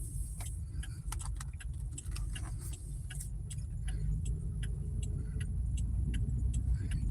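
A car with no brakes or brake fluid drives along a road, its low steady engine and road rumble continuous throughout, with light metallic jingling clicks scattered over the top like keys swinging.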